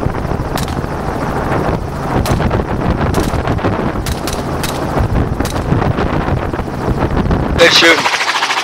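Rifle shots ring out from a helicopter during a hog hunt, several sharp cracks, some in quick pairs, cutting through constant loud rotor roar and wind buffeting.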